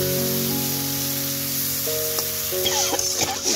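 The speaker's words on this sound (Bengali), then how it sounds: "এখন হচ্ছে ভেজে নিচ্ছি মাছগুলো" Shrimp marinated in turmeric, salt and chilli powder fry in a pan with a steady, loud broadband sizzle that runs unbroken throughout, with a few faint utensil clicks near the end.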